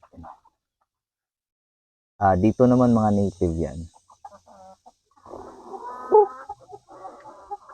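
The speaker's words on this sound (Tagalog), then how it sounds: "Saka yung tandang is Rhode Island Reds." Rhode Island Red roosters give loud, throaty clucks and calls up close after a pause, followed by softer background clucking while someone speaks briefly.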